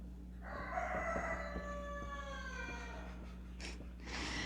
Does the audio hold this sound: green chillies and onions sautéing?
no